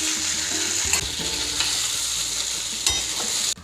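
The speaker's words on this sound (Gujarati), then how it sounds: "હવે આ મૂઠિયાને આપણે આ રીતે ઉપર નીચે કરી દઈશું એટલે સરસ વઘાર બેસી જાય બધા મૂઠિયામાં" Steamed bottle gourd muthiya are tossed in a hot tempering, with a steady sizzle and a few sharp scrapes of a spoon against the pan, no voices.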